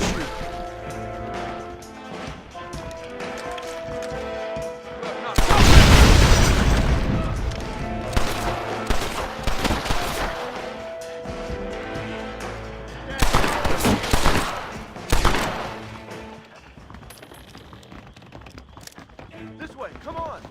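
Gunfire in the Red Dead Redemption video game, with repeated booming shots and a few dense bursts rising from a steady background, some louder volleys standing out before the noise fades.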